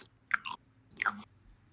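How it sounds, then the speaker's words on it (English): Two crunchy potato chip bites about half a second each, crisp and close, with quiet chewing between and no talk. "That second bite. It's a good bite. It's the greatest crunch."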